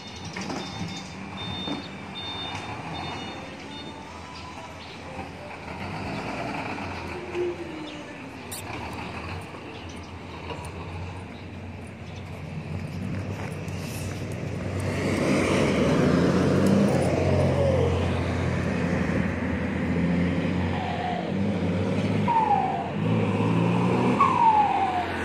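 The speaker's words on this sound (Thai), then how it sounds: "ทำไมเสียงปั๊มมันเขก" A Fuso 6M60 truck diesel engine with a knocking injection pump runs steadily at close range, a continuous mechanical clatter that grows louder and rougher in the second half, with no talking.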